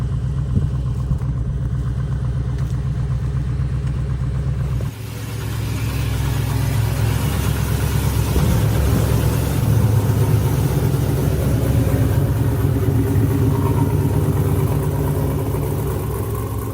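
An off-road tow rig's engine runs steadily while the vehicle is unloaded at about 10,000 feet, a loud, continuous low idle rumble that shifts slightly in tone partway through and then holds.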